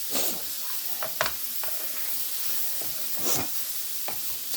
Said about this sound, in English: I'm just going to saute this till it turns a golden brown.